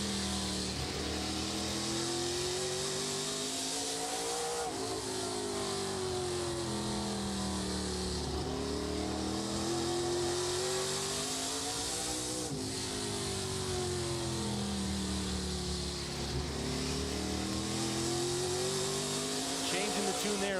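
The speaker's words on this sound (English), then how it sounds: "Listen to what Daniel Dye is doing on that gas pedal and not on the gas pedal to make this car work on the outside" A stock race car engine in a 2022 Menards 250 race revs up and down as the driver works on and off the throttle, a loud continuous drone with rising and falling pitch sweeps under commentary voices.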